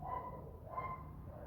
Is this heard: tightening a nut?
no